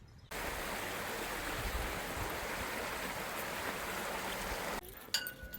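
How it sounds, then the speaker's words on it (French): Beach ambience: a steady broadband wash of surf and wind holds for about four and a half seconds, then drops away to quieter background with a few light knocks. "On est à la plage."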